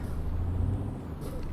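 Truck air brakes in Euro Truck Simulator 2, a long steady hiss of released air over a low engine rumble, close and continuous, with a brief brighter burst near the end.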